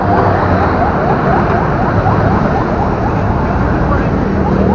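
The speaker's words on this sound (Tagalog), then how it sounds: "Yung ambulansya duman" An ambulance siren wails in repeated rising and falling sweeps, somewhat distant, buried in a loud, constant wash of traffic and outdoor noise.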